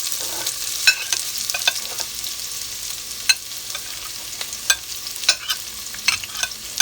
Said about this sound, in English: so the oil is nice and hot, so I'm going to start off with my onions